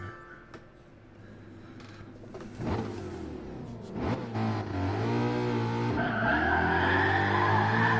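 A rally car in Gran Turismo Sport accelerates along a stage, its engine revving higher with tires skidding and squealing, growing louder and steadier toward the end, with no talking.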